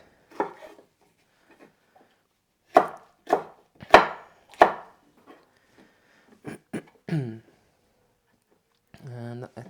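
A knife cuts a red bell pepper lengthwise into sticks on a cutting board, making a series of sharp, distinct chops in short bursts with pauses between them. A voice speaks between the cuts.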